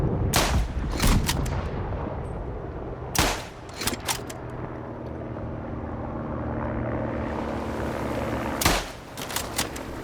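Sniper rifle shots in the World War I video game Isonzo: several sharp, loud gunshot cracks spaced irregularly over a constant rumbling battlefield background, no voices.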